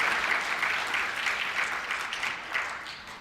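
An audience at a Korean sommelier competition claps steadily, a dense continuous applause from a mid-sized crowd, even and sustained with no talking over it.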